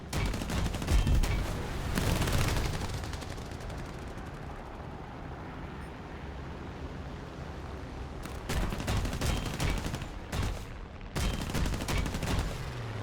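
Bursts of aircraft machine gun fire from a P-63A-10 fighter in War Thunder, firing at an enemy Yak-3 during a diving attack. Several loud, rapid rattling bursts, with a long sustained burst in the middle and short sharp volleys near the end.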